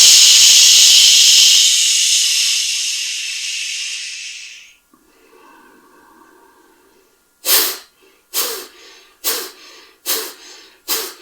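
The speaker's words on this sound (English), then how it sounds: "The breath is happening naturally, your cleansing breath." A long, loud breathy exhalation in a pranayama cleansing breath rushes out for about four seconds, then tapers off. After a pause, five short sharp breath puffs follow in quick succession.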